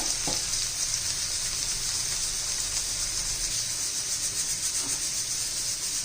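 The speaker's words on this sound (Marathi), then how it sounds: "थोडेसे एक दोन मिनिट लागतात बटाटा चांगला परतून निघायला" Potato sautéing in a pan for sabudana khichdi, giving a continuous even sizzle and hiss close by, with a couple of light utensil knocks.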